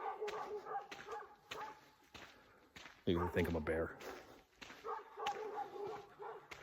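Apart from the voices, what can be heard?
dogs barking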